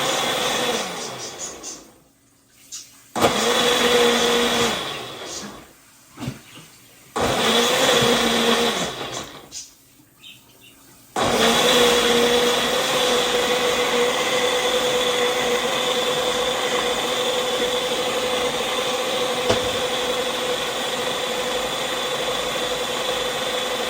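A blender whirs through green seasoning made with garlic, onions and olive oil, running in loud pulsed bursts with brief silent pauses before settling into a long, steady grinding run.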